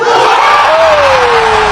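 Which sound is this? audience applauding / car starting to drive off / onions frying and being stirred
audience applauding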